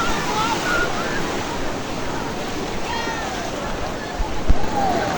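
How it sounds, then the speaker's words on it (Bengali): Large ocean waves breaking and washing in on a shore, a continuous loud roar of surf mixed with wind buffeting the microphone. "কত বড় ঢেউ আইছে একটা। এই যে আরেকটা আইতেছে,"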